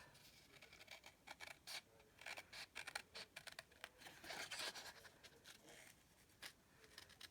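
Scissors snip quickly through small pieces of paper card for a handmade greeting card, the close, quiet cuts coming in irregular bursts with soft rustling between them.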